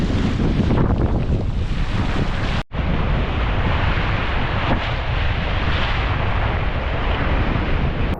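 Strong wind roars across a beach on Koh Phangan, battering the microphone in a loud, continuous buffeting rush with surf underneath and a brief dropout early on.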